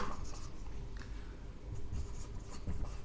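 Marker or chalk scratching continuously across a board while a physics derivation is written out, a close, dry, steady scribbling with no voices.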